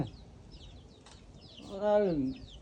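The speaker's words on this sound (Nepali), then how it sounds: "यो कुखुरा झ्याउ गर्छ कि यार" A single drawn-out chicken cluck rising then falling, close by, over faint rustling background noise.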